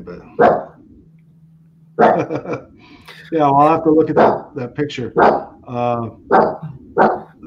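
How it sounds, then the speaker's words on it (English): A dog barks several times in the background, a few sharp barks between stretches of a man's conversational speech, moderately close and clear. "I don't know if you can hear my dog barking,"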